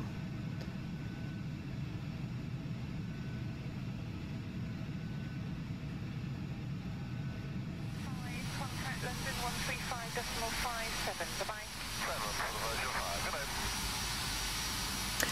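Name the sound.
Carenado Citation II jet engine throttling down, flight simulator game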